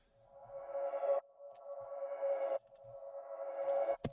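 Three filtered reverb synth risers sweep upward in turn, each with a sucking swell that cuts off abruptly and pans between the left and right ears, part of a drum and bass production.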